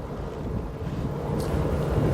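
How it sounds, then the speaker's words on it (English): Steady desert wind buffeting the microphone among sand dunes, a continuous low rumbling roar that fills the whole stretch without pause. "It is windy"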